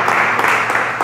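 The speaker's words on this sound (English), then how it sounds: "Let's give them another hand clap, everybody" Loud, close hand clapping from a church congregation during a service, a dense continuous patter of many hands lasting about a second.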